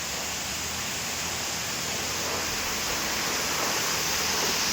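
A waterfall beside the mountain road to Tawang gives a steady, dense broadband rush that stays loud and unbroken throughout.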